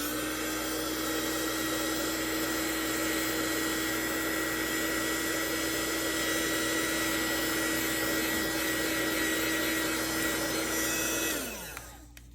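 A hair dryer runs steadily and close for about eleven seconds to dry a watercolor peony painting, holding a constant whirring tone before it switches off and winds down at the end.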